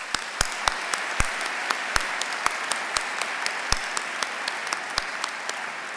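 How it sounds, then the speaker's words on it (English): Audience applause fills a university spring commencement ceremony, steady dense clapping with sharp individual claps standing out, sustained evenly throughout. "Let's give them a round of applause."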